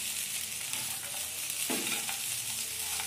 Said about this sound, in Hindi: इसे अच्छी तरह से मिक्स करें